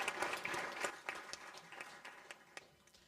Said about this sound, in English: A round of applause for Martin